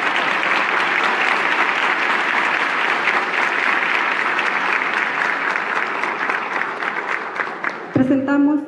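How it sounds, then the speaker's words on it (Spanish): Crowd at a Frente Amplio primaries debate in Coquimbo applauding a presentation, a long, dense and steady clapping that holds for several seconds before a voice cuts in abruptly at the end. "Un aplauso."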